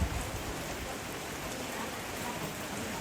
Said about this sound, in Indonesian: saat ini hujan lagi melanda ini